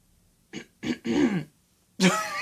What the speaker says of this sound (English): Was that the politest cough ever?